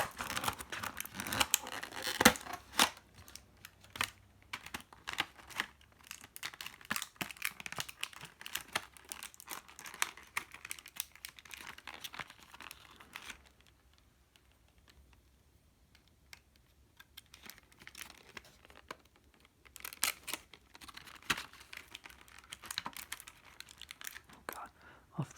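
Plastic toy packaging for a 1966 Batmobile with Batman and Robin figures crinkles and crackles in irregular close bursts, with tape torn free, a quiet lull midway, then more handling.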